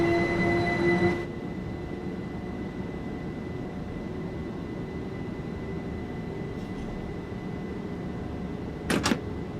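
A train pulls out of Chatham station in the Train Sim World 2 video game, with a steady low rumble of rail running under a faint hum, a brief louder burst near the end.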